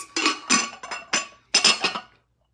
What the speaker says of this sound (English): I have a half gallon, I'm using a glass jar